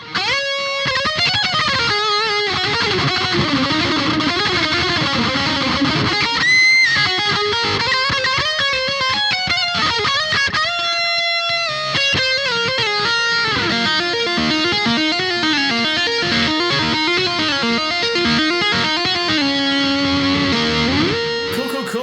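A heavily distorted electric guitar, played through a BOSS GT-1000 and a Marshall Silver Jubilee with mono delay, plays a continuous metal riff with echoing repeats trailing each note, loud and steady throughout.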